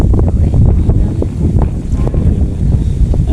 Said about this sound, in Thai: กับบรรยากาศลมๆแน่ทุกคนเนาะ